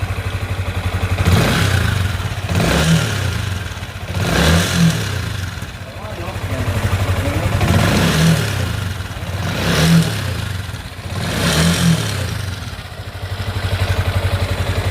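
A Yamaha Sniper 155 VVA motorcycle engine revs again and again in rising and falling surges, with a steady mechanical clatter underneath throughout.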